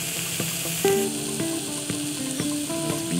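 Chopped onions sautéing in a little oil in a pan for a vinegar reduction, a steady close sizzle with occasional clinks and scrapes of stirring, no talk.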